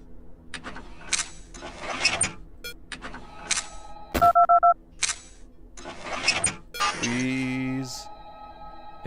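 Touch-tone phone dialing beeps in the horror game Five Nights at Candy's 2, a short burst of paired tones in the middle, surrounded by loud game noise and a voice talking excitedly.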